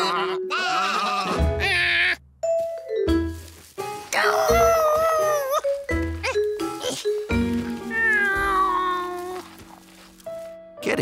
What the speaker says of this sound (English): Getting sheep to follow directions was harder than George expected